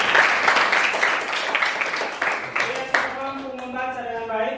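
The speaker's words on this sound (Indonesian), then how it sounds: "Tepuk tangan teman-teman." Students in a classroom applaud together in a burst of dense clapping that fades out as a voice starts speaking.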